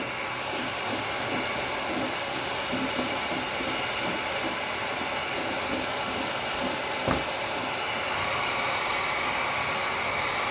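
A heat gun blows hot air in a steady, continuous whoosh that holds at an even level from start to finish, with no voices.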